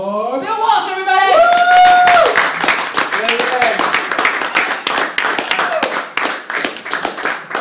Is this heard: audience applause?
yes